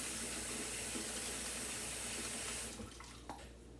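Tap water pours steadily into a soup pot with a broad, loud rushing hiss, then cuts off near the end, leaving faint clinks and drips.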